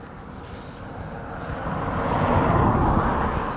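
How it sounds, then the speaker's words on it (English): An Emirates Boeing 777 passes overhead beside the East Coast Main Line, a steady broad jet roar that swells gradually and stays loud and sustained throughout, with no talk. "We've got the Emirates 777 flying over the top of us."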